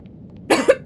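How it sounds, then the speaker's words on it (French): Three short, sharp coughs come close together after a brief quiet stretch, loud and near. "Ah, ça me fait tousser."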